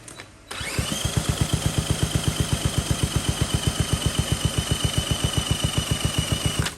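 A Honda XL70 motorcycle running rich with excess fuel starts up and settles into a rapid, steady single-cylinder idle putter, loud and close with no talking.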